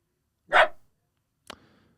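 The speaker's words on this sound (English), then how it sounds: "My dog's barking." A pet dog indoors gives two short barks: a loud full bark, a pause of about a second, then a briefer, fainter one, with silence around them.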